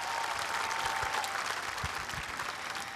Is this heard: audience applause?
yes